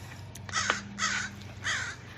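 Crows caw loudly in three harsh, rasping bursts spaced about half a second apart, close by, over a faint low hum.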